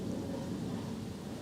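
A low, continuous rumble of thunder rolls on during a dark afternoon thunderstorm in England, with rain noise beneath it, steady and fairly quiet throughout.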